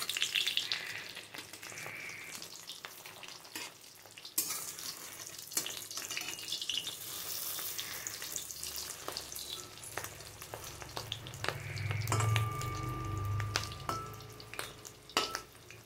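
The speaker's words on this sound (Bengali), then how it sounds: "মাছের ডিমগুলো ভেজে নিয়ে আমি ফিরে আসছি তোমাদের সাথে" Fish roe frying in a pan, a continuous near sizzle with occasional spatters and utensil clicks, briefly swelling louder partway through.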